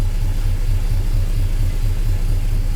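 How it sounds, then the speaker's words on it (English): A 1978 Ford F250 engine, started cold in below-freezing weather, rumbles close up with a deep, evenly pulsing low throb that holds steady rather than climbing. "rev the engine."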